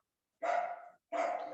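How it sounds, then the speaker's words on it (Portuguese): Two short barks from a small dog, close by, separated by a brief pause, with no voices around them. "meu cachorrinho tá latindo"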